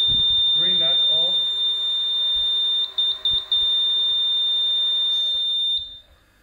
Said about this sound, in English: The green light goes off and it immediately starts to beep.